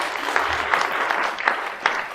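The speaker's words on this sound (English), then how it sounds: "everybody deserves a big bunch of kudos and a round of applause" Convention audience at a Grease panel and Q&A in Burbank breaks into applause, a short burst of clapping with distinct louder claps rising above a steady crowd patter.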